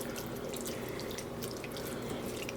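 Diluted beef stock poured into a pan, a continuous close liquid splash and trickle running steadily without a break.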